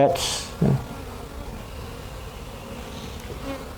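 Honey bees buzz steadily around an open hive during a hive check, a continuous low hum throughout, with a brief louder voice or thump near the start.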